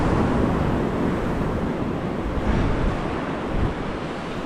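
Sea water rushing into a shallow coastal lagoon on Fuerteventura makes a steady, loud wash of surf-like noise, heavily mixed with wind buffeting the microphone and no speech.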